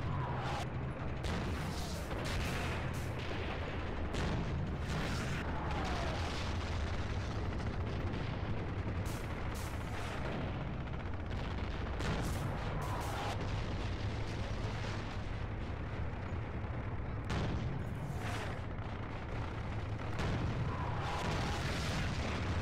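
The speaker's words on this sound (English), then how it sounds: "So now they're using their HE rounds." HE rounds and artillery fire in Graviteam combat, a dense run of booming blasts and sharp reports layered over a continuous low rumble, some near and some distant, with no speech.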